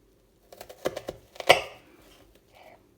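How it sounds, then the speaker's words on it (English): A knife slices through an onion on a cutting board while making chili sin carne, giving a short run of crisp, close cuts and taps against the board with no talking. "I'm going to slice my onion, but I'm not going to put my knife all the way through."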